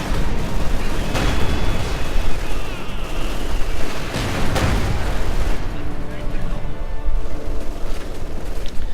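Mortar and artillery fire in a Company of Heroes 2 battle, dense booms and bursts of gunfire running continuously, heavy and loud, with a voice speaking over the combat.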